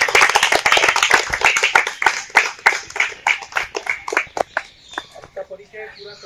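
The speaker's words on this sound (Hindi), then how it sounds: "तो एक बार आप सबके लिए तालियां हो जाए।" An audience at a New Diet System health camp claps together in a dense, crisp patter that stays loud for several seconds, then thins into scattered claps and fades.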